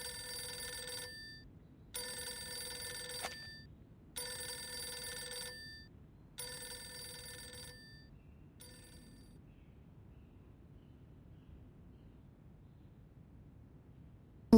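A telephone rings in the video game Reverse: 1999, five evenly spaced electronic rings, each about a second long, then quiet with a low background hum.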